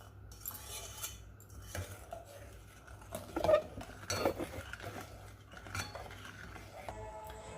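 A spoon stirs junnu powder into a liquid mixture, giving soft repeated scraping and clinking against the bowl, close and moderately quiet, with a few louder taps midway and no talking.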